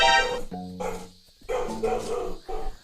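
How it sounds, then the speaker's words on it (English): Several dogs bark in quick, close bursts, loud and near, with a short gap before a second volley of barks. "why the dog barking"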